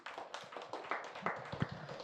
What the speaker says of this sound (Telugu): సో ఆత్మజ్ఞానం కోసం క్లాప్స్ కొడుతూ